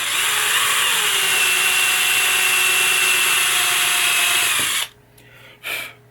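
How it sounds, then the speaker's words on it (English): A power drill runs continuously as it bores holes into a 1989 Williams Earthshaker pinball machine playfield, a loud steady whine, then stops abruptly and gives a brief second burst. "We're going to drill straight down."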